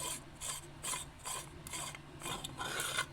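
A metal lightsaber hilt handle being unscrewed by hand gives a close, quiet rhythmic rasping grind in about eight repeated twists, with no voices.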